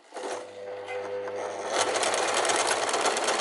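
Sewing machine stitching a tunic seam over pins, a steady close mechanical whir and rapid needle clatter that grows busier and louder after a brief start-up hum.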